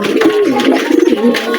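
Pigeons cooing while they feed, a close, loud, throaty warbling coo that rises and falls repeatedly through the clip.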